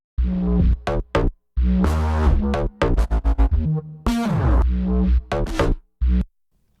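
Choppy, stacked synth basses layered together stab in a busy rhythmic pattern, loud and dense, with short gaps between bursts.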